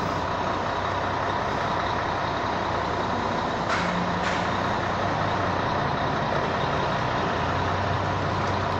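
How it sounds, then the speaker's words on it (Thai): Broadband truck engine rumble at a petrol station, steady and fairly close, with a couple of brief hissing bursts in the middle, no talking. "รถฟูเอลต้องจอดเลย"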